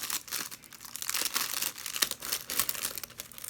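Crinkly plastic shrink wrap film rustles and crackles around a packaged bar of soap as it is cut, a busy close crackling texture throughout.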